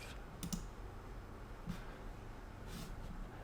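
A few faint, isolated mouse clicks on a Mac computer, spaced roughly a second apart, sit over a quiet room hiss with no talking.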